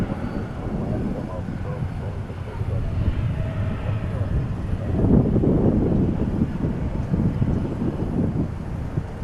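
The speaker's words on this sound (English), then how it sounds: "Air Force 747, getting close to DFW." An Air Force Boeing 747 approaching DFW airport gives a steady, distant jet rumble that swells gradually toward the middle, blended with wind noise on the microphone.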